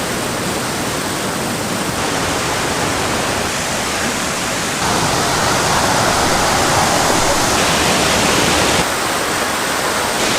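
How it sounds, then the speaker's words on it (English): A small multi-tiered waterfall on Japan's Izu Peninsula, a loud, dense, continuous rush of falling water that fills the whole scene, heard up close and without voices. "you can see like the different sections of the little waterfall here, and it's moving quite fast too"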